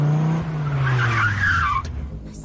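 A car's tires skid loudly to a stop, the squeal sliding downward over a falling engine tone before cutting out, close and alone with no talking.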